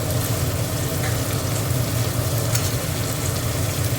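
Chicken pieces fry with onion and tomato in a pan, an even, continuous sizzle up close with a low background rumble and no talking.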